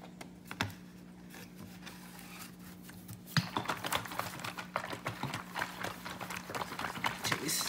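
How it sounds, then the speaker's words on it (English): A plastic jug of mixed hydroponic fertilizer solution for a Kratky setup is shaken close by. Quiet handling gives way midway to rapid, rhythmic knocking and sloshing that keeps going steadily to the end. "And then we're gonna give this jug a shake."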